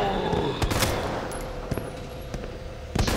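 Gunfire in the Resident Evil 2 Remake, with several sharp shots spread through a short stretch of game noise, a couple of them punching out clearly near the end.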